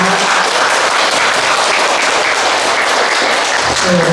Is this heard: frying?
no